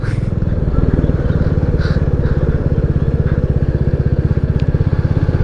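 Royal Enfield Classic 350 on E20 petrol with a freshly changed air filter, its single-cylinder engine thumping in a loud, steady rapid pulse while riding, throttle held fairly even, close-up with wind rumble.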